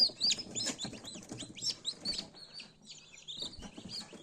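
Black Marans-cross chicks sired by a Legbar rooster give a steady stream of high, overlapping peeps, close and fairly busy, with soft low rustling beneath.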